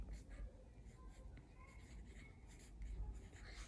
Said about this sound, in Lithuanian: Ir dabar aš parodysiu, kaip aš dabar rašau.